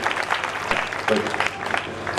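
Crowd clapping at a Hindi kavi sammelan poetry gathering, a steady wash of many hands at moderate level with faint voices mixed in.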